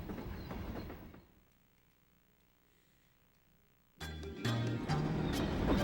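A train running in Paper Mario: The Thousand-Year Door, with a dense rumbling rattle that drops away to near silence and then returns loud with rhythmic clanking and mechanical clatter.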